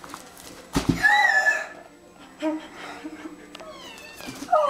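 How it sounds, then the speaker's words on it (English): A cat outdoors gives a couple of drawn-out, wavering meows, fairly close, one loud cry near the start and another at the end, with people talking nearby. "I saw a cat."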